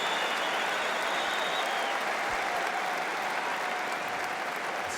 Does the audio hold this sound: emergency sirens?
no